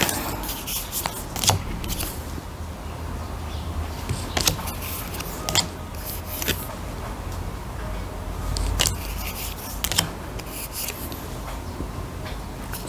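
Tarot cards from an English-language deck are handled close up, giving soft shuffling slides with sharp flicks and taps scattered irregularly, quiet and without talk.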